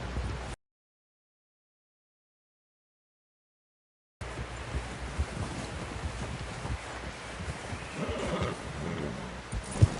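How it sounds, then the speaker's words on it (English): A horse whinnies faintly amid wind and rustling outdoor ambience in the video game Red Dead Redemption 2, after a stretch of total silence near the start. "Someone help John down off this horse."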